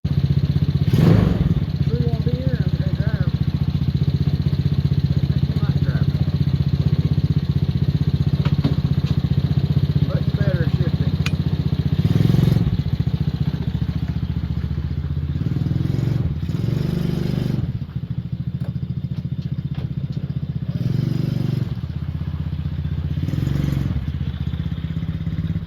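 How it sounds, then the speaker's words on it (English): Old mini Jeep engine running steadily while cruising around outdoors, a continuous close motor drone with occasional thumps and clatter from the ride, a voice talking over it at times. "I've got the old mini Jeep out here cruising around"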